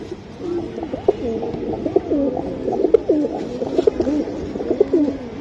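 Pigeons coo repeatedly at close range, a continuous rolling series of throaty calls overlapping one another in a loft of pet pigeons, with no talking.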